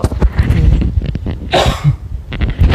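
A few sharp, explosive coughs burst out close to the listener between quieter breaths, one louder hack standing out in the middle.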